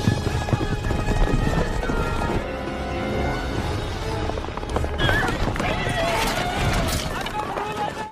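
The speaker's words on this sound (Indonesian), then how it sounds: "Frank dan kudanya jatuh ke dalam ranjau buatan Khatib" Horses gallop hard with loud, fast clip-clop hoofbeats while shrill neighs and whinnies cut through, set in a deadly desert endurance race, amid a busy mix of music-like tones and crowd noise, up close and continuous.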